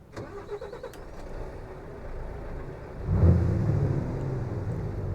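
A dump truck in Euro Truck Simulator 2 starts up in snowy, foggy weather: a brief cranking, then a deep engine rumble swells and settles into a steady, close idle, with no talking.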